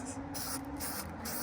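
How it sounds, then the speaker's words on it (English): A hissing spray from an aerosol can of spray paint sounds in short bursts at close range, with a steady tone under it. "Thanks to this can of spray paint."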